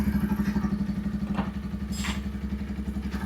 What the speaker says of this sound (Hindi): अब चलिए बाइक को करते हैं स्टार्ट। टाइमिंग चेन का साउंड बिल्कुल रिमूव हो गया।